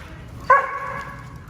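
A single sharp bark from one of two dogs, Hunter and Simba, close and loud, followed by quiet room noise.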